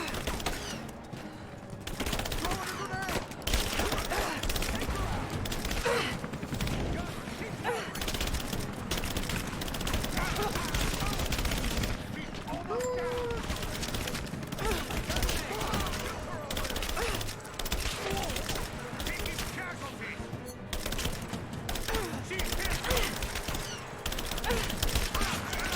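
Gunfire fills a firefight in the game Rise of the Tomb Raider: dense, rapid bursts and single shots crack continuously at close range, with game voices mixed in.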